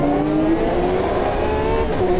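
A GTE race car in Automobilista 2 career mode revs hard under power, a loud, steady engine drone climbing gradually in pitch along a straight, with faint tire noise and no talk.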